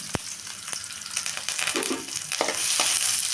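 Onions frying in a pan for a black-eyed pea curry, a steady close sizzle that swells slightly louder toward the end, with a few stirring clinks and scrapes and no voices.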